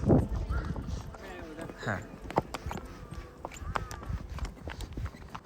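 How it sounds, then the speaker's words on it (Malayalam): Horse hooves clip-clop in an irregular walking rhythm on a ride through Baisaran valley near Pahalgam, Kashmir, with sharp nearby knocks mixed with people talking. "അപ്പൊ നമ്മള് കുതിരപ്പുറത്ത് കയറിയിട്ടുണ്ട്"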